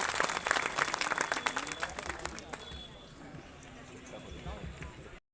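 A crowd gives loud applause to welcome a minister at a public event in Biaora; the clapping is dense at first, then thins and fades toward the end.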